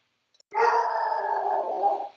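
A dog gives one sustained, tonal howl-like bark lasting close to two seconds, fairly close and clear with no talking over it.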